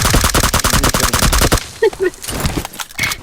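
Rapid bursts of gunfire in PUBG Mobile, a dense run of loud shots for about a second and a half, then a few scattered sounds and faint game noise.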